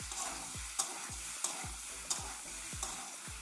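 Sola kochu (taro) curry being sautéd and stirred in a pan, with a steady sizzle broken by regular scraping strokes and soft clacks of the spoon about every half second, close and alone with no talking.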